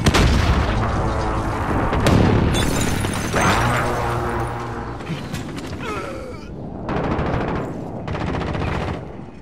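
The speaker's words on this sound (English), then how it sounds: "Enemy precision airstrike." Explosions from an enemy precision airstrike in a shooter video game rumble in heavy, overlapping blasts and booms alongside bursts of gunfire, loud and continuous throughout with a few brief lulls.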